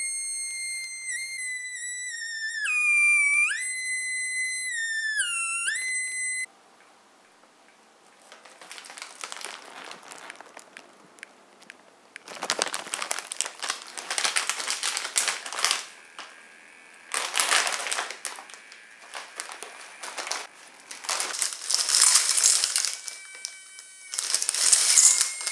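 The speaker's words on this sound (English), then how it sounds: "It's a piezoelectric speaker taken from a microwave oven" A shrill electronic tone from a 555 timer circuit driving a piezoelectric speaker taken from a microwave oven beeps and warbles up and down in pitch for several seconds, then stops, followed by crinkling and rustling handling noises.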